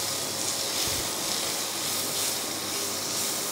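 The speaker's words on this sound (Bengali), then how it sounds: "দিয়ে একটু ভেজে নেব" Three kinds of capsicum fry in a pan for a white sauce pasta, giving a steady soft hiss and sizzle that holds evenly for a few seconds without talk.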